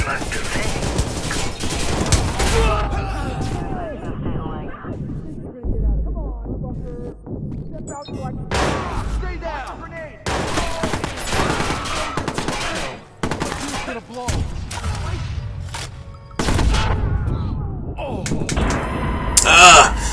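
Gunfire in the video game Watch Dogs, dense bursts of rapid shots and impacts loud and close, broken by short gaps, with game sounds and voices mixed in.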